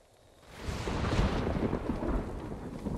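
A thunderstorm in the video game Ghost of Tsushima swells from quiet into a loud, sustained rumble of thunder over heavy falling rain, with no talking.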